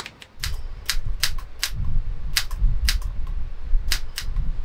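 Keys of an old manual typewriter strike in quick irregular bursts of sharp, loud clacks with short pauses between, close up and alone with no talking.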